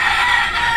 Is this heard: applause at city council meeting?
no